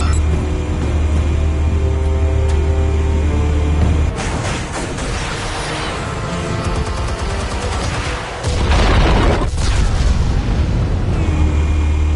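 Loud, drawn-out explosion rumble in Batman: The Telltale Series, a heavy low boom that swells mid-clip with crackling debris, then eases back under a steady droning score.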